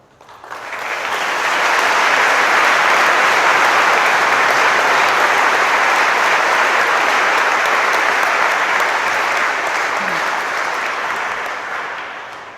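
Sustained, loud audience applause at a university graduation ceremony in a large hall, swelling quickly and holding as a thick, even roar of clapping before easing slightly at the end.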